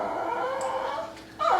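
A dog whines and howls in a drawn-out, wavering cry, fairly close and steady, rising to a louder yelp near the end.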